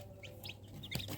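Newly hatched chicks from an incubator-hatched clutch give thin, high peeping chirps, a few short calls scattered over a steady low hum, faint and close.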